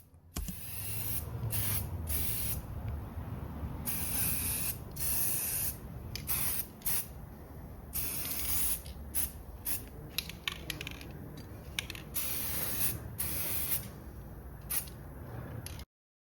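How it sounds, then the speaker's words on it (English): A Draper spray gun sprays paint onto a front door, a steady hiss broken into repeated bursts of varying length over about sixteen seconds, fairly quiet with faint mechanical clicks between passes. "a little spray up with this."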